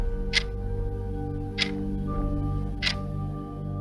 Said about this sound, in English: A soft, rhythmic ticking coming from the hallway.